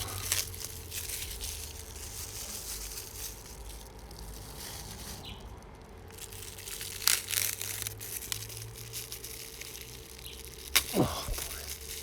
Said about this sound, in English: this plastic saran wrap, now it feels like really cheap plastic